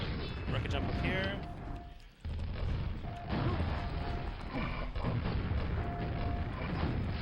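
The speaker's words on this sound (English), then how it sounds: "Rocket jump up here." In the video game Quake, a rocket jump sets off loud, booming explosions with crashing game effects. Sound stays dense throughout and dips briefly near the middle, and a voice talks over the action.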